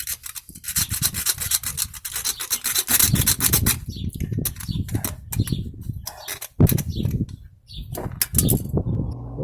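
A hacksaw cutting a workpiece for a handmade amulet, loud close rasping strokes in uneven bursts with brief pauses between runs of sawing, and no talking.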